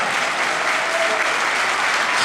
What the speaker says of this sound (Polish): I nie żałujmy oklasków.